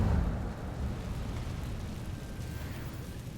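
An Incendio fire spell cast in Hogwarts Legacy, a loud rushing whoosh of flame with a deep burst at the start that settles into a steady roaring crackle, heard alone.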